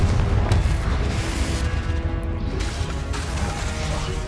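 A Confringo explosive blast erupts in Hogwarts Legacy, with booming, crashing impacts and a rumbling roar that stays loud and continuous throughout.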